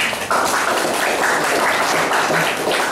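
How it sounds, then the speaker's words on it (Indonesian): Applause from a meeting audience after a presentation, a dense burst of many hands clapping that swells in after a brief lull and holds steady, close and fairly loud. "Tepuk tangan."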